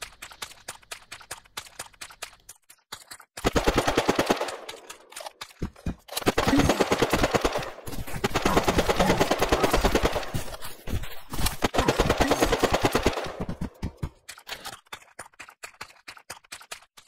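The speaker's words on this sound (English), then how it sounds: "You can see the submachine gun in action." A submachine gun fires in a shooter video game in three long, rapid bursts of sharp shots, separated by brief pauses and a scatter of quieter single shots and clicks.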